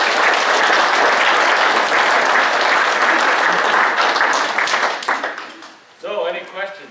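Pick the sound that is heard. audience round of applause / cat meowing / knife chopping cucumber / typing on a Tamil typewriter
audience round of applause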